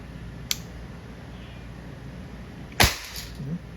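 An Umarex Walther CP99 CO2-powered non-blowback air pistol in .177 caliber fires double action: a light click, then one sharp close crack followed by a brief rattle, over quiet room noise.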